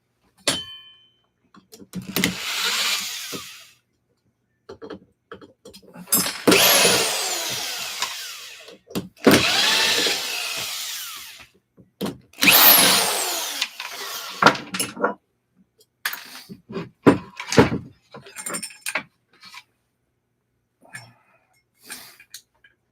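A power tool unscrewing parts from a scrap ceiling fan with a cast aluminum body, in bursts of whirring drill noise lasting a few seconds each, separated by metallic clinks and handling clatter.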